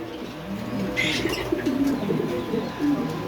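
A pair of black show king pigeons coo softly at a fancy pigeon seller's, with low, rolling coos and a few chirps, close but fairly quiet against a faint background hum.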